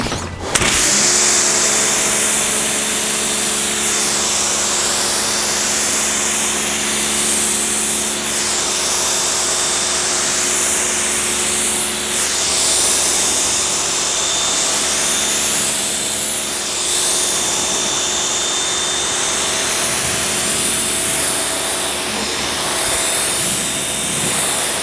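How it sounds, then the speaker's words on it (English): A pressure washer sprays steadily while rinsing thick foam soap off a car, a continuous hiss and motor whine at close range with no talking. "let's go ahead and rinse this one off, make sure there's no problem with residue again"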